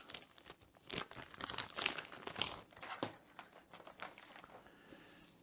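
A PreSonus Studio 24c USB audio interface is handled inside its small bag, giving close, irregular crinkling and rustling bursts with soft taps, heard alone without any talk.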